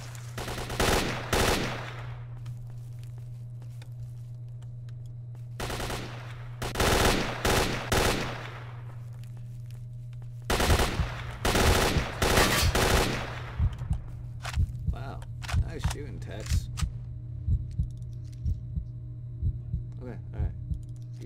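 Gunfire in the video game S.T.A.L.K.E.R.: Shadow of Chernobyl comes in sharp bursts of rapid shots, then scattered single cracks, over a constant low electronic hum.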